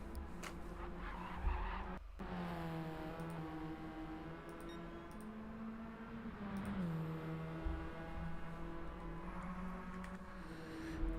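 A Radical race car sliding during a GTRC Supercup race, tires squealing and skidding over a droning, shifting engine note, moderately loud and continuous with no talking.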